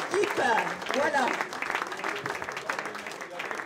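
Applause from an event audience for a three-time Olympic athlete and team at a Roland Garros 2014 gathering, a steady patter of clapping running under a presenter's loud voice.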